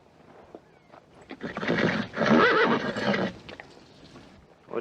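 A horse in a Western action film neighs loudly, a rising whinny that swells to a peak in the middle and then fades, with faint hoof clops before and after and no talk.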